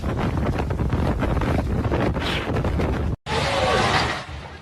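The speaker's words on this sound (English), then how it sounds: "Gusty winds reached a speed of 130 km per hour." Strong gusty wind reaching 130 km per hour roars and buffets a microphone in a loud, continuous rush, cut by a brief dropout before surging back.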